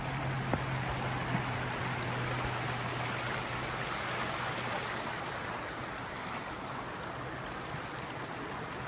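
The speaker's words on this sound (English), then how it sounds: "At the creek." A creek flows steadily along the Appalachian Trail, a broad continuous rush and trickle of water close by, with a faint low hum underneath and no voices.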